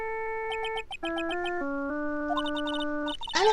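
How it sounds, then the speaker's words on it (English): A cell phone in Phoenix Wright: Ace Attorney Justice For All plays a bright electronic ringtone melody, clear and close, of sustained tones and quick chirps, ending in a short burst. "All of a sudden, the phone began to ring."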